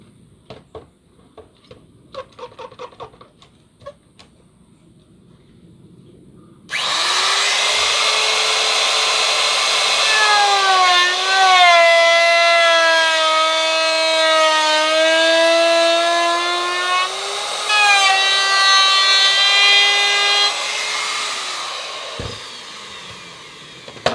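A handheld router fitted with a half-inch round-over bit shapes the edge of a wooden cigar box guitar part, whining loudly and steadily as it cuts, with the pitch shifting slightly along the pass before it winds down.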